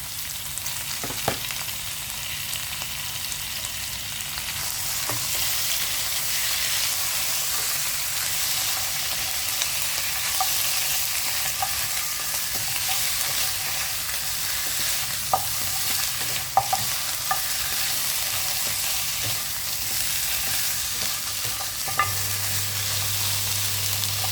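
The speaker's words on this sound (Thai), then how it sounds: "จากนั้นก็นำกระดูกซี่โครงหมูนะคะใส่ลงไปผัดจนกระทั่งสุกเลยค่ะ" Pork rib bones stir-fried in a pan for a pork bone and pineapple soup: a steady, close sizzle runs throughout, broken by occasional scraping clicks from stirring. No one speaks.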